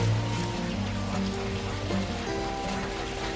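Steady, dense crackling sizzle of food frying in a pan, continuous and fairly loud with no pauses.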